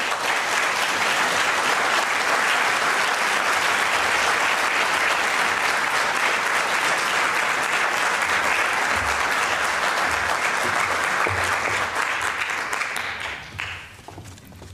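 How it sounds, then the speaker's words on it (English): Sustained audience applause after a speech at a lecture series, a thick, even wash of many hands clapping for roughly thirteen seconds before tapering off quickly at the end. "Anne needs to stand up here longer after her speech so she can hear the applause."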